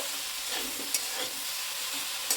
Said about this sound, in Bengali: পালং শাকটা দিয়ে ভালো করে নেড়ে ছেড়ে একটু আদা বাটা দেব